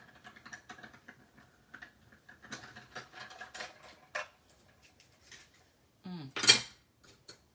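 Hand-cranked die-cutting and embossing machine being turned, a run of soft clicking, ratcheting ticks and light mechanical clatter, close and fairly quiet, ending in a brief louder crunching squeak as the plates pass through.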